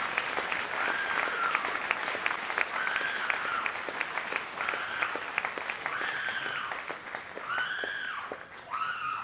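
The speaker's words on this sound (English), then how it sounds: "Give a hand clap to the Lord for her." A church congregation claps for the Lord in a dense run of applause, joined by rising shouts and excited voices calling out over the clapping.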